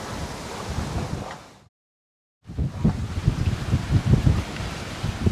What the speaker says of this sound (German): Ja, die Wellen sind schon ziemlich hoch